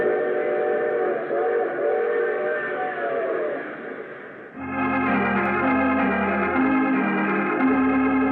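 Steady rumbling train sound effect from an old-time radio mystery drama, with sustained whistle-like tones over the noise, shifting midway into a fuller, brighter chordal sound that runs to the end without a break.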